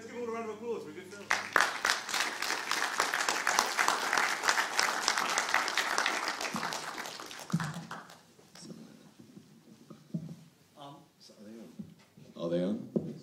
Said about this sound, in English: let's give all a round of applause for a good film.